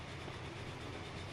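A New York Central train rumbles along in the racing game Transport Fever, a faint, steady low rolling drone over a brief stretch, with no clear clicks or talk.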